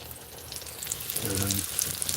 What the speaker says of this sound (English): Macaroon shells boiling.